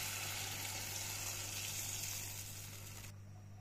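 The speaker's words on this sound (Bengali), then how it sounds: "জল দিয়ে দিচ্ছি।" Water is poured into a pan of kesky fish frying with spices, giving a loud, steady hissing sizzle that cuts off abruptly near the end, leaving faint quiet.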